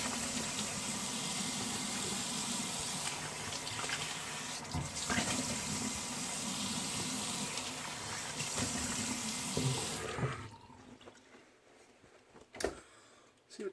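Water runs steadily from a tap as a Genco straight razor is rinsed off, a close, even splashing flow for about ten seconds that then cuts off, leaving a few small clinks.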